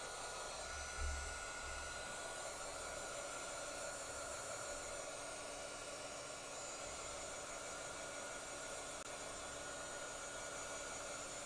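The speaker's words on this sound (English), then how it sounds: "Let's go ahead and heat this to dry." A heat tool blows continuously to dry a craft project, a faint, steady whooshing hiss that holds without a break and with no voices.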